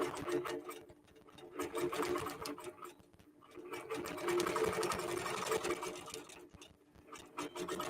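A computerized quilting machine stitches out a quilt block, a steady mechanical whirring hum with rapid needle chatter that rises and falls in bursts, close and fairly loud, with no talking.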